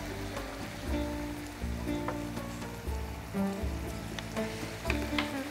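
Lamb meat searing in a pot for a tajine, seasoned with turmeric and pepper, gives a steady soft sizzle and crackle, close and fairly quiet, with background tones running underneath.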